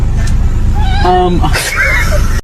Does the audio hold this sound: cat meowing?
yes